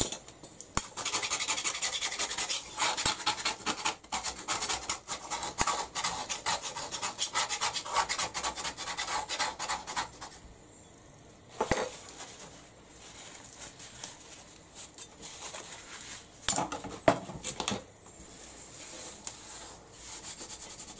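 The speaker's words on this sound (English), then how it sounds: "sometimes the best way to get the dried paint off is using your spatula" A spatula scraping dried paint off a craft surface, steady raspy rubbing strokes close by, dense for about ten seconds, then sparser scrapes with short pauses; no voices.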